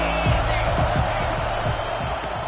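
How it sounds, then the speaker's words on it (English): College football stadium crowd at an FSU game, a loud sustained roar of fans with thumping noises, under a commentator's voice. "This crowd trying to make life miserable for this offense."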